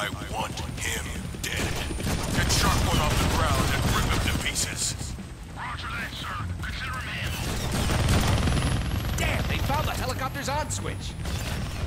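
Helicopter combat in the Deadpool video game on PS3: loud, continuous clatter of gunfire and mechanical whirring, dense and busy throughout with brief dips, game sound effects layered over a rotor-like drone.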